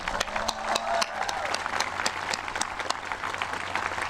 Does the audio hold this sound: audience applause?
yes